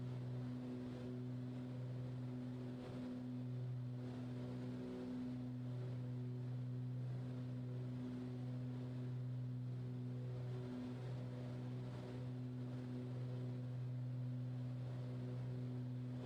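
Twin piston engines of a Baron BE58 run steadily in Microsoft Flight Simulator, a loud, constant droning hum with strong low tones that holds unchanged from start to finish.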